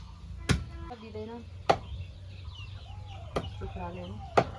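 Chickens cluck and call in short bursts in a Nepali village while pork is prepared for cooking, with a few sharp, loud chopping knocks cutting through and a voice talking in the background.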